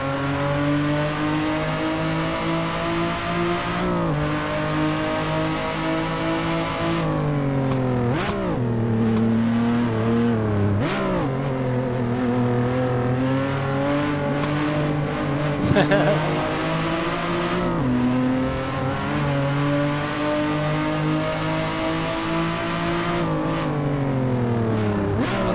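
Race car lapping the Ottawa South circuit in a driving game, engine revving up and down through gear changes with brief tire squeals as it slides sideways, steady and close, with someone talking over it.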